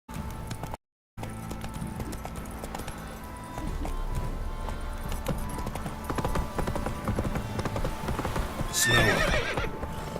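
Roach, the horse in The Witcher video game, gallops with steady, rhythmic hoofbeats throughout. Near the end, a short whinny rises above the hooves.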